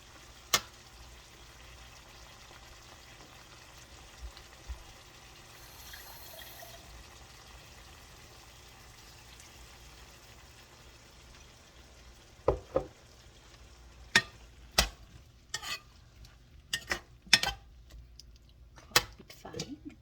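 Water is poured into bell peppers stir-frying in a pan. A quiet, steady sizzle carries a brief pouring wash, then a run of sharp spatula clicks against the pan near the end.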